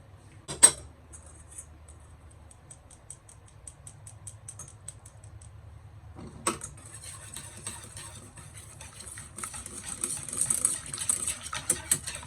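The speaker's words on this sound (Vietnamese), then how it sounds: "Mình khuấy bột bắp tan" Corn starch being whisked into unsweetened fresh milk in a bowl for Hong Kong sponge cake batter, a close, rapid run of light clicking taps that pauses briefly and then picks up again.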